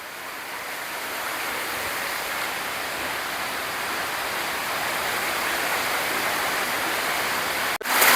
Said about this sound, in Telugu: ఈ యొక్క కొండ గృహం నుంచి వచ్చే నీళ్ళు, ఈ నీళ్ళు చూసారా ఎలా వస్తున్నాయో.